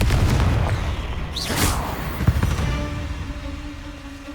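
A Confringo blasting spell in Hogwarts Legacy goes off as a deep, loud boom with a whooshing burst, then a low rumble fades away, leaving a faint tonal hum.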